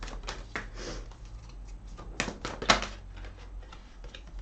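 Tarot and oracle cards shuffled by hand away from a table, giving close, crisp papery flicks and snapping taps in an uneven rhythm, with no voices.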